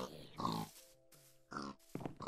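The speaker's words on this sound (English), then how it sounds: "I breeded one of your pigs, Jezreel, and I took one of the pigs as meat" Minecraft pig grunting in the video game, a few short low grunts mixed under people talking close by.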